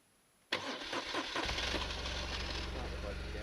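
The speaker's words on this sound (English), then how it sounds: "Start the bike again." A BMW R1200RT motorcycle with a failing side stand switch cranks and fires up abruptly, then settles into a loud, steady near idle that runs on without talk.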